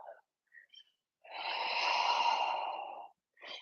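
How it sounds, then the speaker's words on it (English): A long, deep exhale during a yoga session rushes out steadily for about two seconds, close and breathy, with shorter soft breaths before it and another starting at the end. "Inhale. And exhale."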